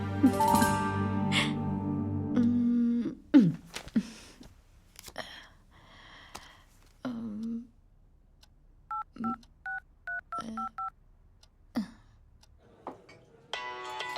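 An electronic telephone ring sounds as a quick run of paired beeps, clear and close, after some scattered thumps and a sigh.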